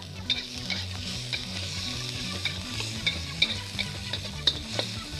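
Onion and finely diced green chili stir-fry in a hot wok for dry-fried curry beef, a continuous loud sizzle broken by repeated scraping strokes of a spatula.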